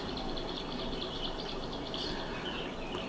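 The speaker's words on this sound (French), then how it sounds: "tu entends l'eau, les oiseaux, les mouettes qui volent au-dessus de l'eau" Birds and seagulls call over water: faint, high chirps drift above a steady wash of waves and ambient noise, distant and continuous, with no voices.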